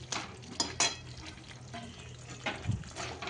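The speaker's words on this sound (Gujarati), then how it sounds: "હવે આને આપણે સતત હલાવી જવાનું" Paneer being stirred into simmering gravy in a pan, giving soft scraping and stirring sounds with a few sharper clinks of the spoon against the pan, close by and moderately quiet, with no talking.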